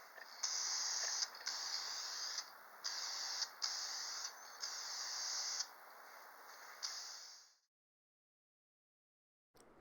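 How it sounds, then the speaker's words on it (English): Spray lacquer hisses from an aerosol can onto a wooden bowl in several steady bursts separated by short pauses, close and clear, then stops into silence. "now we'll go ahead and give this a couple coats of spray lacquer"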